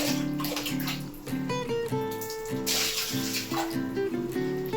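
Water is poured and splashed over someone's feet during washing in a bathroom, a close, continuous running and splashing sound with small bumps and changes in the flow.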